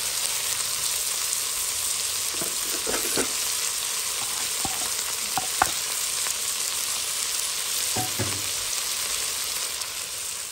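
Onions frying steadily in a pan for a prawn-and-egg dish, a constant close sizzle with a few soft clinks and stirring scrapes scattered through, no talking.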